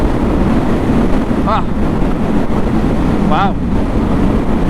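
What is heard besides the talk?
wind noise riding Harley-Davidson Sportster S on highway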